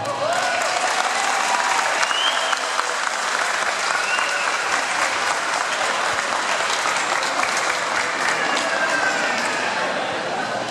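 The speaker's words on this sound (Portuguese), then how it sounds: "Com muito carinho, peço uma salva de palmas para vocês" Audience at a samba school carnival theme launch gives loud, dense applause welcoming Rosana Mota to the stage, a continuous crowd roar of clapping with a few faint voices and whistles mixed in.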